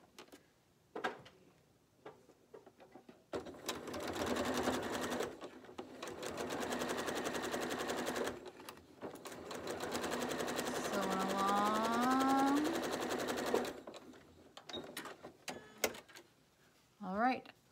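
A sewing machine stitches a flying geese quilt block, running in a steady, close whirring burst for about ten seconds with a short pause partway through. Brief talking comes before and after the stitching.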